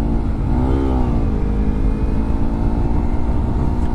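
A Honda Civic Type R engine revs loudly and close, its pitch rising and settling into a steady, strained drone that fills the whole clip.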